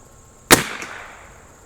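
A single sharp rifle shot from an Anschutz 54 Match target rifle with RWS Special Match ammunition, fired at a pumpkin target, loud and close with a short ringing decay and no talk.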